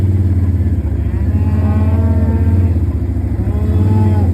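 Lactating dairy cattle on a grazing farm low and moo in long, drawn-out calls, loud and close, over a steady low rumble, with no talking.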